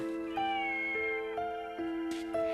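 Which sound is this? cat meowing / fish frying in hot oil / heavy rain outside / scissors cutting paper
cat meowing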